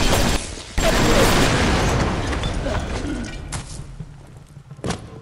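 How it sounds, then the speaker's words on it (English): A loud explosion in the video game Bioshock bursts with a broad, dense blast, then rumbles and decays over several seconds, with a smaller crack near the end. "I guess that explosion took care of him."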